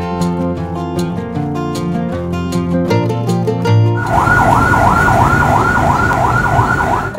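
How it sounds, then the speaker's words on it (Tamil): An ambulance siren wails in a rapid rising-and-falling pattern, loud and close, starting midway after a stretch of musical tones. "ஆம்புலன்ஸ்னாலே அந்த சைரன் சவுண்ட் மக்களுக்கு வந்து அந்த அளவுக்கு வந்து ஒரு பயம் இருக்கும்"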